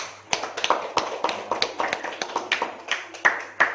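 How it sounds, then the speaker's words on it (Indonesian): A classroom of students gives scattered, uneven applause for a group, a loose run of separate sharp claps at close range, with no talking. "kita kasih aplaus buat kelompok 1 ya"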